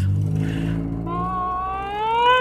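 A bus engine at Pasar Seni LRT station in Kuala Lumpur rumbles low, then climbs into a rising whine as it pulls away and accelerates, close and fairly loud.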